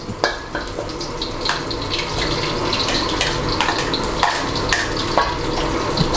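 Onion and pineapple sizzle in a hot pan for sweet-and-sour sea bass, a steady close frying hiss with occasional stirring clinks and scrapes throughout.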